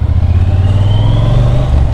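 A Triumph Bonneville T120 motorcycle engine drones loud and steady while riding, a deep low rumble with a faint rising whine above it and no break.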